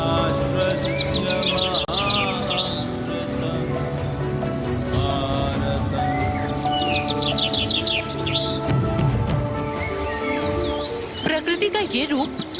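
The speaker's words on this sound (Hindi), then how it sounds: "चिड़ियों की ये चहचहाहट और अटखेलियां आपने आखिरी बार कब देखी और सुनी थी?" Many birds chirp and sing together in a dense, continuous chorus of bright whistles and trills, loud and close, with a soft clopping underneath late in the stretch.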